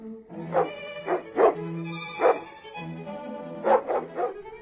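A dog barks several times, close and clear, in a quick cluster of yaps, then a pause and another short burst of barks.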